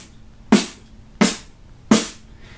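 A beatboxer voicing a P snare, three sharp, evenly spaced lip bursts with short breathy tails, close and crisp, imitating a snare drum.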